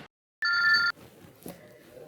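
A telephone gives a single bright electronic ring lasting about half a second, sharp and close, followed by a quiet room with faint background noise.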